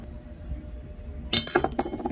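Rice is poured into a metal money bowl, a quiet stretch followed by a sudden rush of close clinking and pattering grains against metal.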